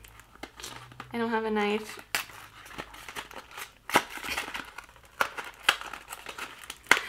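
Packaging ripped open by hand during an unboxing, with crinkling and tearing bursts scattered through the clip, close to the mic and mixed with a person talking.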